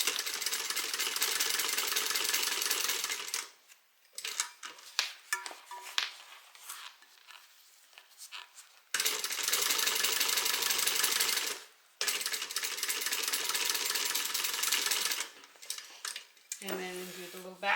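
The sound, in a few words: sewing machine stitching bag lining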